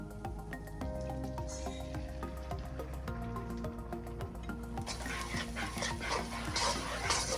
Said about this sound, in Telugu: ఆయిల్ హీట్ ఎక్కిన తర్వాత బీట్ చేసిన ఎగ్ వేసుకుందామండి.